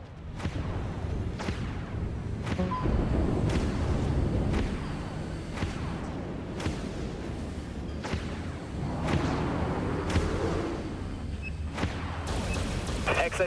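Broadside guns fire in the Dreadnought video game, a series of sharp heavy cracks spaced about a second apart over a dense rumbling battle bed, with voices talking throughout.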